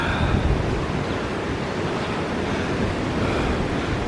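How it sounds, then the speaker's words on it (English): The Watchet River rushing fast toward the sea at Watchet in Somerset the day after a storm, a loud, steady broadband roar of turbulent water with wind buffeting the microphone and no voices. "this is the Watchet River on its way to the sea in Watchet, flowing very fast"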